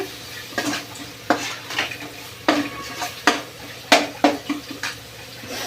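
A ladle scrapes and stirs coriander powder through thick fenugreek-leaf egg masala in a pan, with about ten sharp scraping strokes in an uneven rhythm over a soft background sizzle.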